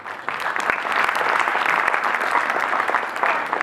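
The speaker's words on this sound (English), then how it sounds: "I think that calls for a round of applause." Audience at a Sri Sathya Sai Bal Vikas convocation in New Delhi applauds steadily, a dense, sustained round of clapping from a large crowd at even loudness throughout.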